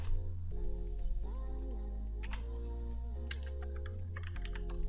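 Computer keyboard keys tapped while working in a spreadsheet, including an F4 press and a Ctrl+D shortcut, a few distinct clicks standing out over a steady tonal background hum.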